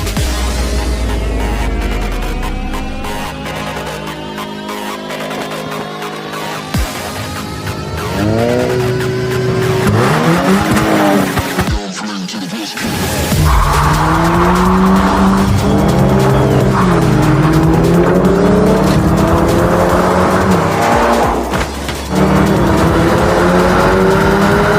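Racing cars, including a new Volkswagen GTI, scream past with loud engines revving through the gears and tires squealing hard through corners, continuous and close with no talk.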